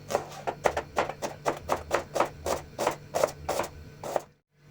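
Knife slicing onions into thin strips on a board, a steady run of about a dozen crisp, evenly spaced chopping strokes close up, ending abruptly in silence.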